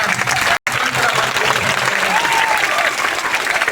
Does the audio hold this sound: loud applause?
yes